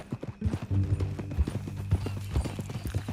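Horse hooves clip-clop steadily at a walking pace in Red Dead Redemption 2, close and fairly loud, with a brief whinny-like tone and low ambient game sound underneath.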